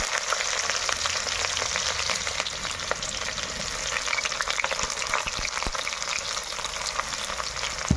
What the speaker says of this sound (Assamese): এতিয়া পৰা তেল গৰম হৈ গৈছে দেখিছে। এতিয়া পিঁয়াজটো দি দিওঁ ইয়াতে।